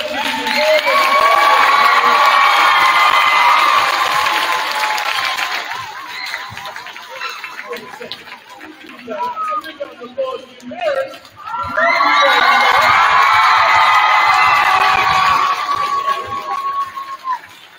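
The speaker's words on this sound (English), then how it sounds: "give a big round of applause for all the teachers" Schoolchildren at an assembly applaud and cheer for their teachers, a loud burst of clapping and shouting that fades into a quieter stretch with scattered noise, then surges into a second big round of cheers.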